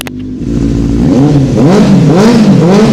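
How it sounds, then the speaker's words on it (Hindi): Benelli 600i motorcycle fitted with an SC Project exhaust revs loudly and close up, its engine note climbing and falling in several repeated throttle blips with no talking. "बाइक पे एससी प्रोजेक्ट का आपका एग्जॉस्ट भी लगा हुआ है। आवाज तो सुननी बनती है तो सुनाते हैं।"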